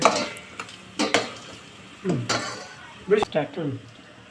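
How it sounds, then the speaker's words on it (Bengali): Onions frying and being stirred in a pan for a chicken roast, with intermittent scraping and metallic clinks of a utensil against the pan in short bursts, close by. "পেঁয়াজ ভাজা শুরু করেছি পেঁয়াজ ভাজা দেখেন"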